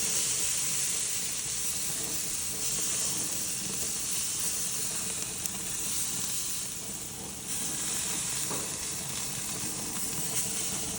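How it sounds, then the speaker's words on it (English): Loud, continuous hissing sizzle of filet mignon steaks searing in a hot pan, steady throughout with slight swells, no talking. "just listen to that sizzle though"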